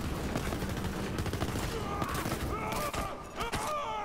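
Sustained gunfire from a weapon in Borderlands 3 rattles as rapid, dense bursts running the full length, with game sound effects layered on top and a few shifting tones near the end.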